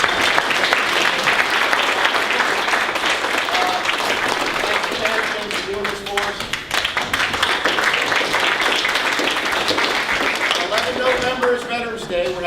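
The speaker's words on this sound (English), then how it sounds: "I'd like everybody to give the candidates a round of applause" Audience at a town election candidates forum in Luray breaking into a round of applause, dense sustained clapping that stays loud throughout, with a few voices and cheers mixed in.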